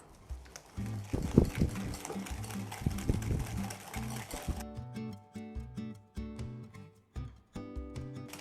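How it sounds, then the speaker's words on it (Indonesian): An electric hand mixer beating egg and vanilla into a frangipane filling for an apple pie, a steady buzzing motor with rhythmic pulsing beater strokes, close and fairly loud, its tone shifting midway as the batter thickens. "Kita mix sampai semua bahannya ini kelihatan terimulsify ya, terus dia jadi pucat dan sedikit mengembang."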